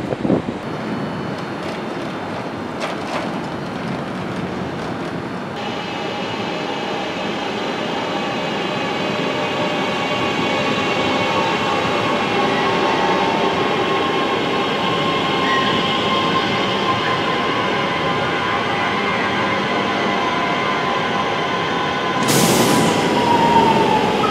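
A Northern train pulls away from Manchester Airport station with a steady, building rumble and rolling wheel noise, a rising whine carrying through, and a sharp burst near the end.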